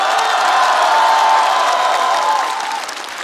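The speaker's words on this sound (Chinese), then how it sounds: "来，我们把掌声送给年轻一代" A studio audience at a variety show claps and cheers together in a loud, dense wash of applause that holds steady, then thins slightly toward the end.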